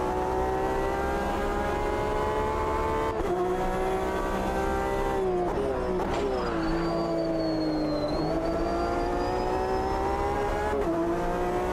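A BMW M8 race car in Automobilista 2 drones steadily at high revs with its engine tone shifting through gear changes and a long pitch sweep, loud and continuous throughout.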